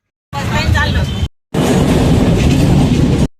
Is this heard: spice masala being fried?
no